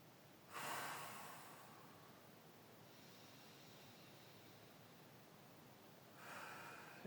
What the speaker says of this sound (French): Je fais de la respiration diaphragmatique. J'inspire par le nez, j'expire par la bouche.